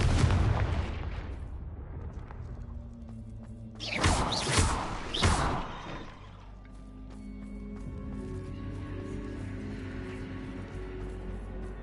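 A Confringo fire spell cast in Hogwarts Legacy bursts as a loud close explosion with a roaring crackle, two sharp blasts close together mid-way, then a rumbling fade into game ambience.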